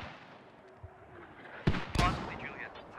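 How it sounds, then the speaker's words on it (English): Mortar rounds landing during a bunker fortress defense in the video game Squad, two sharp booming impacts about a third of a second apart against quiet battlefield ambience, with faint voice chatter underneath. "More mortars are coming out."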